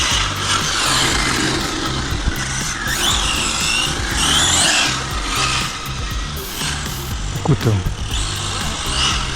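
A Hobao VS2 RC rally car engine buzzes steadily with a high whine, its pitch rising and falling through quick passes, with brief tyre scrabble near the end and a voice speaking over it.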